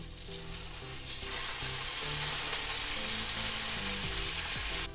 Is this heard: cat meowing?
no